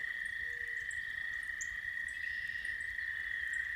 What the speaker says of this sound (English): I can hear the frogs down in the pond